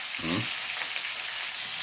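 Steady sizzling hiss of food frying in a pan, continuous and fairly loud, with a brief low murmur near the start.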